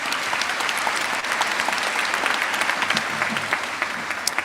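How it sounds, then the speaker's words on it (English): A large audience at a medical school commencement applauds the faculty, dense steady clapping that fills the room at a constant loudness throughout, with no talk over it. "please give your faculty a round of applause"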